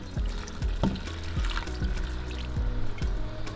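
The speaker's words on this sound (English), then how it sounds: "And now we're gonna add in our warm water." Warm water pours steadily into a bowl of amala flour mix, a continuous close splashing trickle with a faint gurgle that runs through the whole stretch, with no voices over it.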